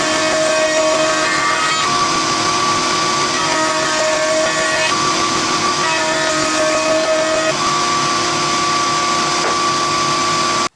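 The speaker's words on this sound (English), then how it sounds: "we are now going to run through our router setup 3 sides of our box" A router cuts slots into three sides of an MDF box with a loud, continuous whining roar, its tone shifting slightly as the cut moves along, and stops abruptly at the end.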